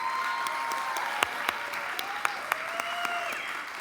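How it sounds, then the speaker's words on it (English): A small studio audience claps for a team in a cooking contest, the applause fairly light with scattered distinct claps while a voice talks over it. "So, a round of applause for the black team,"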